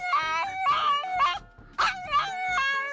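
A voice imitates a pug barking, with a run of yappy, whiny bark-like yelps and whimpers in quick bursts, close and fairly loud, pausing briefly midway.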